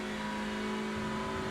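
A Hyundai Elantra TCR race car in iRacing at Laguna Seca gets back on the throttle, its engine holding a steady tone that starts to climb, close and continuous, with no talk.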